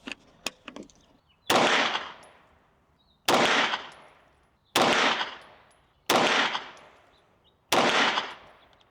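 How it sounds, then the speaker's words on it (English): A Springfield Armory Kuna compact 9mm PDW firing Winchester 115-grain ball ammunition, five loud separate shots at steady intervals, each a sharp crack with a decaying tail, after a few faint clicks. "Let's shoot some with just Winchester 115 ball."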